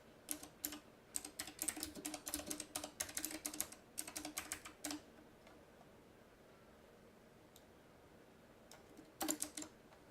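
Rapid bursts of typing on a computer keyboard while someone writes ReactJS code, a dense clatter of keystrokes for about five seconds, then a pause and a short final flurry, close and clear with no talking.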